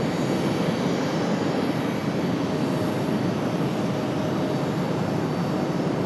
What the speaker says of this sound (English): Iceland, coming in from Reykjavik. 737 MAX 8 tonight.